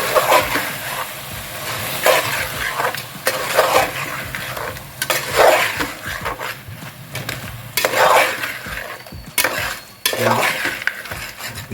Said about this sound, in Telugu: టమాటా ప్యూరీ వేస్తున్నాను.